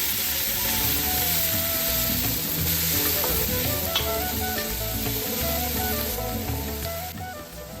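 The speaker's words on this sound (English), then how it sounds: "And then goes in the onion and the spring onion" Chopped onion and spring onion sautéing with golden-fried garlic in a vessel, giving a steady, loud, close sizzle with stirring scrapes throughout, alone with no voices, easing slightly near the end.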